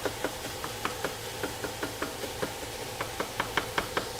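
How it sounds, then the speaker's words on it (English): A knife chops food on a cutting board at home in about twenty sharp, fairly regular knocks over a steady background hum, with no voices. "Now I got to start really chopping this shit up."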